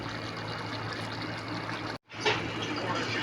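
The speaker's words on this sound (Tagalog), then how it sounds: "gusto po siya lagyan ng konting tubig para pampalambot" Water is poured into a pot of pork and chicken adobo, a steady trickling, filling sound that drops out for a moment and then resumes, close and fairly loud.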